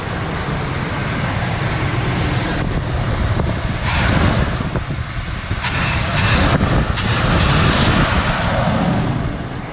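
A 1982 Camaro Sport Coupe engine revs up sharply under throttle, the low rumble swelling in a few quick surges over a steady idle, heard close with wind buffeting the microphone and no one talking.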